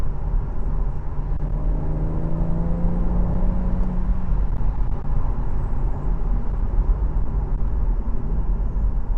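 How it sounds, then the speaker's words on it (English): A BMW M140 engine revs in short rising and falling sweeps as the throttle blips during downshifts in sport transmission mode, heard from inside the car over a steady, loud road and engine drone. "It's kind of throttle blipping more and changing down more, maybe in sport transmission mode"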